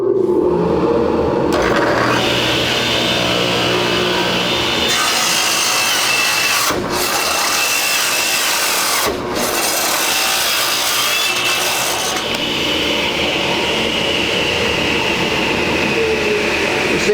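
A radial arm saw cuts through a walnut plank about 14 inches long in a woodworking shop. The loud, continuous cutting roar drops out briefly twice before carrying on.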